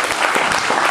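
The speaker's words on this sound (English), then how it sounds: "Another round of applause, please." An audience at a Rotary club meeting breaks into loud applause, a brief, dense burst of many hands clapping close by.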